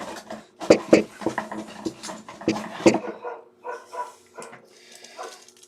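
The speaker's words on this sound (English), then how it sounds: "there go my dogs because they hear me banging around" Several dogs barking indoors in a house, loud sharp barks in quick irregular bursts with panting and yips between them, fading to softer whimpers toward the end.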